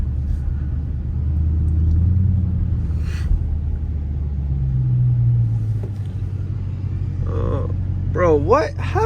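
Deep, steady engine rumble from a 717-horsepower Dodge Hellcat idling at a gas station, close and continuous, with people talking over it throughout.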